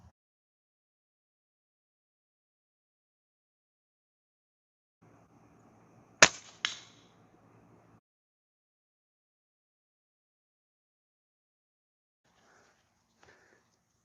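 Umarex NXG APX multi-shot air gun fired after 10 pumps, one sharp crack close by followed quickly by a second snap, set in near silence with faint rustling before and a soft knock much later.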